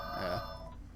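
A telephone rings in a room, a single bright electronic trill sounding loud and close before fading out, with no talk over it.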